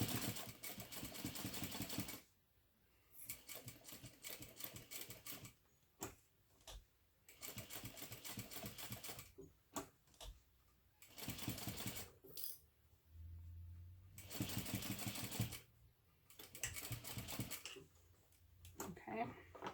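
A sewing machine runs basting stitches on a zippered fabric ID case, several bursts of steady mechanical whirring separated by pauses, close and moderately loud, with handling noises in between.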